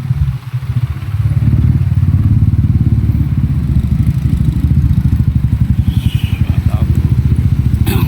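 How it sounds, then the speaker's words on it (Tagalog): Several motorcycles, ridden with passengers on a night curfew patrol through a subdivision, rumble steadily at close range with a pulsing engine drone throughout, while people talk over them. "Bali, pitong motor kami."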